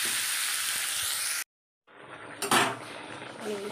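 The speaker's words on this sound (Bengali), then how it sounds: "এবারে পেঁয়াজটা দিয়ে এবার নাড়াচাড়া মজে গেলে তারপর তেলটা দিয়ে দেবো।" Onion sizzling and being stirred in hot oil with panch phoron spices, a steady hiss that cuts out briefly, then returns with utensil clatter.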